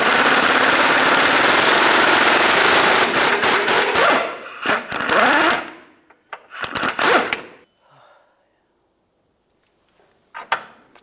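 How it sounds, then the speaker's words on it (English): Half-inch impact gun with a 15 mm socket backing out a track bar bolt on a 2003-2011 Mercury Grand Marquis, a loud sustained whirring rattle for about four seconds, then a few short bursts and clanks of the bolt and tools. "a 15 millimeter on the backside here with a half inch gun to remove the bolt"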